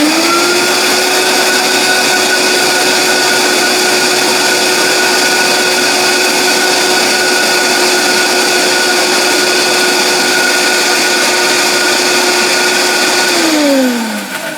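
A countertop blender runs loudly and steadily, blending a cashew cream layer for a tiramisu cake. Its motor holds one constant whir for most of the clip, then winds down near the end.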